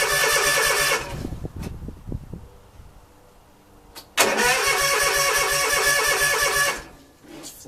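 A cold Toro 50 engine, flooded, cranks and catches twice: a loud broadband roar for about a second, then sputtering cranking, a gap, and a second long steady run of about two and a half seconds before cutting off abruptly.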